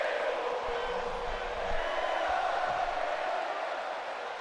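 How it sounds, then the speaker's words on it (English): Steady, dense crowd murmur from a WWE 2K24 wrestling arena, a continuous broad roar with low rumbles, no distinct cheers rising out of it. "I don't know what the crowd's saying"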